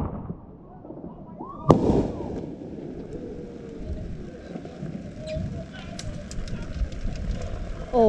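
Mini rocket fireworks launching on New Year's Eve: one sharp, loud burst early on, followed by a long stretch of crackling and fizzing outdoors, with faint voices in the background.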